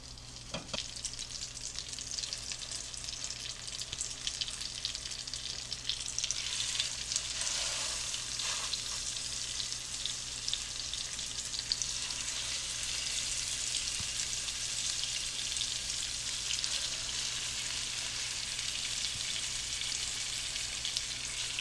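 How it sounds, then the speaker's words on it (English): Hamburger steaks sizzle and fry in a hot pan, a steady bright crackle with no talk, holding evenly throughout and thickening slightly after the first few seconds. "I'm going to start placing my burgers in."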